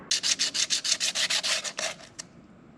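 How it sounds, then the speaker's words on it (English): Close, steady rubbing strokes of sandpaper on a gear part scrape back and forth about a dozen times, then slow and stop, with no voices. "So I'm just going to sand this down smooth and reuse it."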